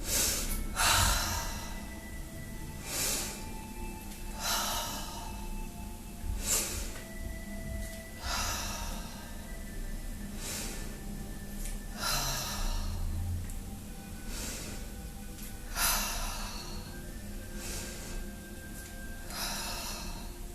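Repeated forceful exhalations during a home Pilates lower-abdominal routine, about nine breathy puffs spaced a couple of seconds apart, close and alone.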